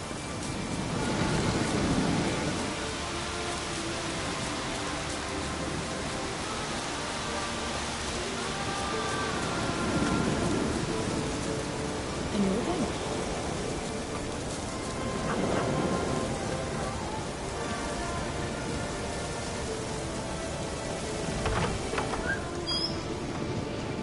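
Steady rain hisses across the landscape in The Witcher 3, a broad, even wash of drops with soft rumbling swells and a few faint bird-like chirps, under background game music.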